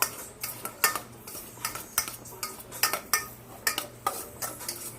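Utensil scraping and clinking against a bowl while food is tossed with buffalo sauce and seasoning, a rhythmic series of sharp taps and scrapes about twice a second, close up with no talking.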